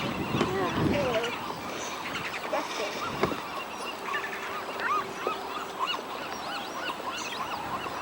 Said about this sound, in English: What a bird.